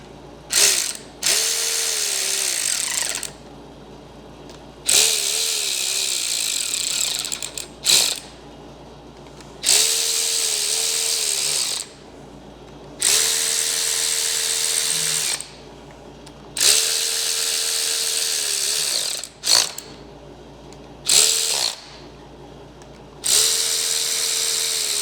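A ratchet wrench clicks steadily while tightening bolts on a 4L60E transmission being converted from 4WD to 2WD, loud and close, in repeated bursts of several seconds separated by short pauses.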